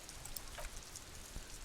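Steady rain falls in Disco Elysium outside Precinct 41, a soft continuous wash of drops with a few slightly louder patters, faint and even throughout, with no voices.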